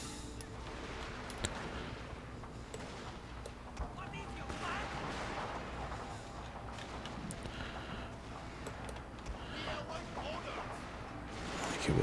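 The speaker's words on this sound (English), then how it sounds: "I'll redeploy these different units to fire on the enemy which are climbing the wall." Massed musket and rifle volleys from troops defending a castle wall in the Total War: Shogun 2 Fall of the Samurai battle, crackling continuously with scattered sharper shots over a dense battle din, and someone talking throughout.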